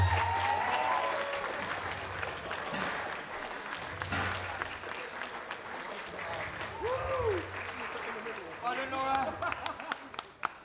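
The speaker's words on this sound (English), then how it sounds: "a big round of applause for Laura Vogelsang" An audience applauds the bronze medal winner at a bench press and deadlift powerlifting competition, a steady wash of clapping running throughout while an announcer's voice and music carry over it.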